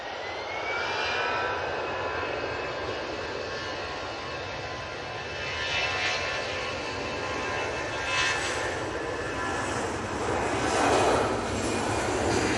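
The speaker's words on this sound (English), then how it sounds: "Aer Lingus A320 going back to Dublin" An Aer Lingus Airbus A320 bound for Dublin departs Manchester Airport, its jet engines giving a sustained, fairly close roar with faint whining tones that swells in surges toward the end, with no voices.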